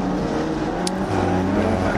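A race car in Forza 6 drones along wet Brands Hatch with a steady engine tone, then shifts to a lower-pitched hum as it loses grip. A brief sharp hiss cuts in midway, and no voices are heard.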